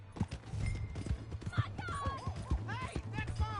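Horse hoofbeats from Red Dead Redemption 2 clatter in a steady rapid rhythm, close and fairly loud, with whinnies and someone shouting over the hooves.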